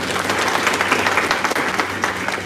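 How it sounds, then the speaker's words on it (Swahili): Brief, loud audience applause at a scholarship launch event, many hands clapping in a dense continuous wash with a faint voice underneath. "Sikujipigie makofi."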